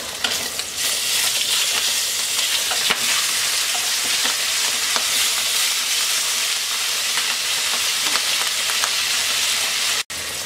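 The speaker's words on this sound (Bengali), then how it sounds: "তেলটা গরম হয়ে গেছে, মাছ দিয়ে দিচ্ছি।" Hilsa fish frying in hot oil for a Bengali hilsa and zucchini curry, a steady loud sizzle with crackling spatter running unbroken throughout, with a brief dropout near the end and no speech.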